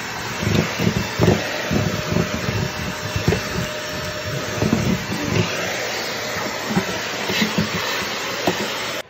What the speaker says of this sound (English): Get a vacuum cleaner, and it's going to be noisy